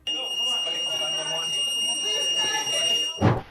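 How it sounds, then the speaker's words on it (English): Steady, continuous high-pitched courtroom alarm ringing throughout, with people talking and calling out underneath, ending in a loud burst of noise. "As alarms went off in the courtroom, people started to call for help."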